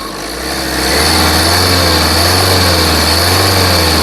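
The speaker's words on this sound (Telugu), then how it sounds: "ఇంజన్ యొక్క నాయిస్ చాలా అంటే చాలా సైలెంట్గా అయితే ఉందండి" A 2018 Tata Nexon XM engine runs close by, a steady droning hum that rises slightly at the start and then holds even.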